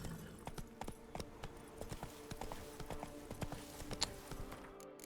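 A horse's hooves clip-clop at a steady walking rhythm in The Witcher 3 video game, quiet and fairly close, with no talk over them.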